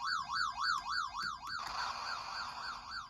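Chiptune music and sound effects from Bomberman on a PC Engine Core: a rapid warbling, siren-like melody, then steadier bleeping tones. The sound is thin and moderately quiet and plays on its own.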